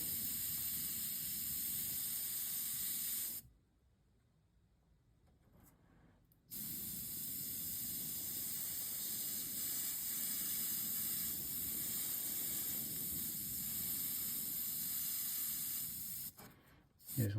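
An airbrush sprays paint onto a bluegill-pattern fishing lure in long, steady close hisses, stopping for a few seconds midway before resuming, with a short break near the end.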